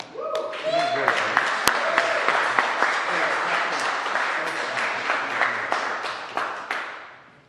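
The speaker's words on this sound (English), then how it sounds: "Another round of applause for Preston, who's doing a great job building Ontario" Audience applause at a morning press event in Ontario, a full round of steady clapping from a gathered crowd lasting several seconds, with a few sharp louder claps standing out and the clapping tapering at the end.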